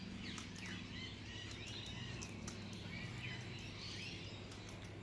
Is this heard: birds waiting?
yes